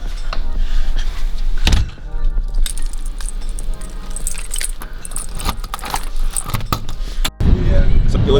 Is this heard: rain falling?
no